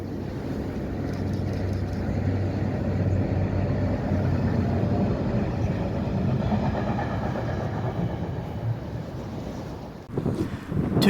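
Class 88 locomotives 88010 and 88001 haul a nuclear flask train in Scotland. A loud, sustained rumble and rush of passing wagons carries over heavy wind buffeting, then a sharp clattering burst near the end.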